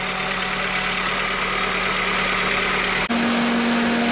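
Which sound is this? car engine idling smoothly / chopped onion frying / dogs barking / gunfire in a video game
car engine idling smoothly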